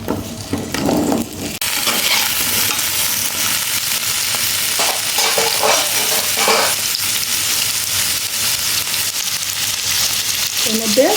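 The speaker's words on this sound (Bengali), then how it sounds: "এখানে আমি 3টে মিডিয়াম সাইজের আলুগুলোকে আমি একটু ভেজে নিচ্ছি।" Three medium potatoes fry in a little oil in a wok, a loud continuous sizzle that flares up strongly after a quieter opening second and stays dense throughout, with occasional stirring scrapes.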